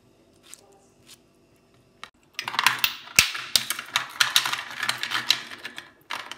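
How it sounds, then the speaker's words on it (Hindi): A knife chops mango into small cubes on a board, giving a quick run of sharp, close taps and clicks that sounds much like typing, with sparse knocks first and then a dense, steady stretch. "ये देखिए मैं इसके छोटे छोटे क्यूब्स काट रही हूँ ताकि अच्छी तरह ग्राइंड हो जाए"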